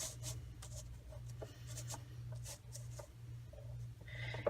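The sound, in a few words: cutting patterned paper down to size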